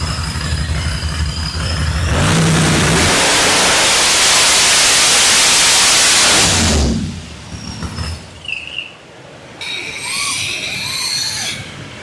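A supercharged 7.3L Godzilla V8 roars at full throttle on a dyno, a loud sustained hissing wall of engine and blower noise for several seconds before dropping back to a rough idle with whine.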